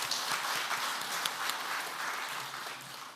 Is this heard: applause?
yes